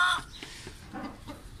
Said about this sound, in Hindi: एक मुर्गी इधर है, शायद कोई अंडों पड़ गई होगी, एक अंडा देने लगी हुई है